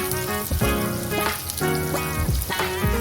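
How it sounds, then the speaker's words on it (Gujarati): Finely chopped onion tipped into hot oil with cumin for a spinach and garlic curry, giving a loud, steady frying sizzle with bursts of crackle and spatter and some stirring, with no talking. "હવે આ ડુંગળી છે ઝીણી સુધારેલી એ નાખી દઈએ"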